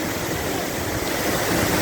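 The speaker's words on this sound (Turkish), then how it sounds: "Şu an şelale ile benim aramda yaklaşık bir 5-6 metre var." Çoğuruk waterfall pours with a loud, steady broadband roar of falling water, heard up close at roughly five or six metres, with no talking.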